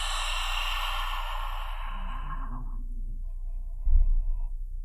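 A long, forceful breathy exhalation during Uddiyana Bandha yoga breathing whooshes out for about three seconds, close and steady, then fades into quiet.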